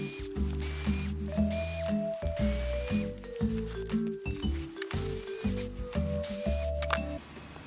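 A powered driver turns screws into the LCG battery tray of a 1/10 scale Element Ecto RC car. Close, whirring, ratcheting bursts change pitch in short steps, with brief pauses between screws.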